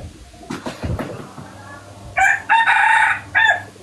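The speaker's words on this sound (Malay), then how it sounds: "sekarang kau pula suruh ayam tu diam" A chicken crows loudly in a few close bursts of cock-a-doodle-doo after some soft thumps and knocks in the first half.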